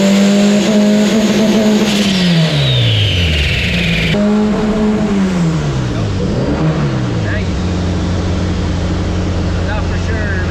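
A Dodge SRT4 engine starts and then revs repeatedly, each loud blip climbing and falling in pitch close by, before settling into a rough, steady idle.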